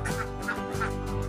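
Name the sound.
laying ducks on a duck farm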